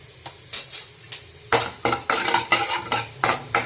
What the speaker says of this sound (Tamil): எண்ணெய் சூடானதும் கடுகு கடலப்பருப்பு போட்டுக்கோங்க.